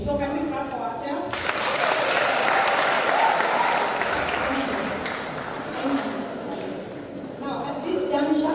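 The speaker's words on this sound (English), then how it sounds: "So can we clap for ourselves?" Applause breaks out from an audience at a drama festival award ceremony, swelling after a spoken line and carrying on for several seconds before speech resumes over the fading clapping.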